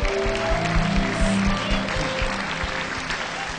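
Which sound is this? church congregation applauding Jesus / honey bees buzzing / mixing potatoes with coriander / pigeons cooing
church congregation applauding Jesus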